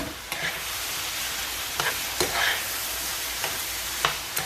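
Tomatoes sizzle in a frying pan for a meat lasagna, a steady low crackle broken by several sharp scraping stirs at irregular intervals, close and moderately loud without speech.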